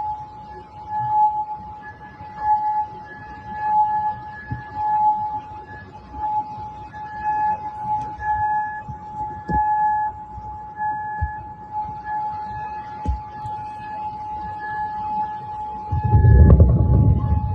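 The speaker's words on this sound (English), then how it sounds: "You can hear the sirens going off there." Air raid sirens sound during airstrikes, a steady, distant tone that rises and falls in long, even pulses over a constant low rumble, with a heavier burst of low noise near the end.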